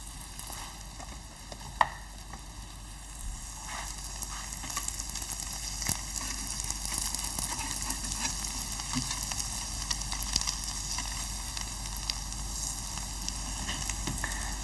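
Pancakes with caramelized peaches sizzling steadily in a frying pan, a continuous close crackling hiss with small pops and no talking.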